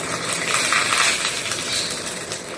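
Mustard seeds and urad dal sputter and crackle in hot oil during a South Indian tempering, a dense, steady stream of sharp pops with no voices.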